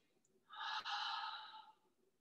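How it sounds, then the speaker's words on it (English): A single long, full breath during a morning yoga session, a soft airy exhale lasting over a second, close and quiet, with a small click partway through. "Just take one full breath here."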